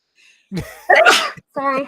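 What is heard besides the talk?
sneeze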